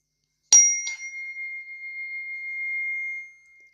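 A small meditation bell is struck, followed by a quick lighter second tap, then a clear pure tone rings on for several seconds before fading, close up with no talk.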